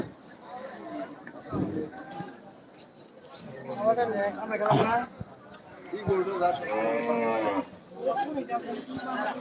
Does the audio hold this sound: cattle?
yes